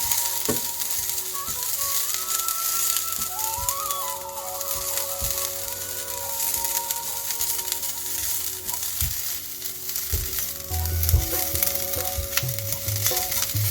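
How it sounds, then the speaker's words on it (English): Grated coconut roasting in a dry pan until light golden brown, with a steady close sizzle and frying crackle, occasional scrape and stir of a spatula, and a few clinks of utensils running throughout. "Roast it It becomes light golden brown."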